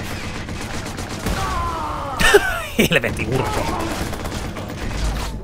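Gunfire in the video game Watch Dogs, a short cluster of loud shots in the middle bursting over steady game noise while someone talks and swears.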